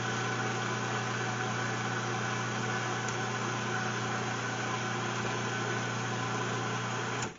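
A food processor whirs steadily, mixing green onion cream cheese dip with a continuous, even motor hum and buzz close by, running alone for several seconds before cutting off at the end.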